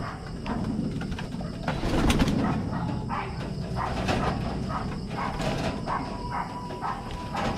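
Pigeons cooing close by in a coop during the rainy season, soft repeated coos over rustling, fluttering and faint mechanical clicks, with no talking.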